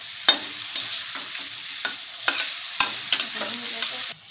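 Carrot fries in a pan for homemade noodles, a soft steady sizzle punctuated by repeated clacks and scrapes of a stirring spatula at a regular, brisk pace.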